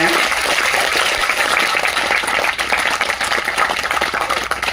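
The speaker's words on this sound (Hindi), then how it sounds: "एक बार जोरदार तालियों से धन्यवाद अर्पित करते हैं" Audience in a Hindi training session breaks into loud, sustained applause, a dense wash of clapping filling the room steadily for several seconds with no clear speech.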